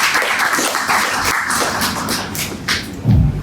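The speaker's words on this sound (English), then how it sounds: "Big round of applause for yourselves and for each other." Audience applause at a talk on biology, design systems and fish, a steady dense wash of clapping from a seated crowd throughout, ending with a low thump.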